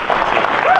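A short burst of audience applause fills a keynote hall at a military base, dense clapping blending with crowd noise while a voice carries over it.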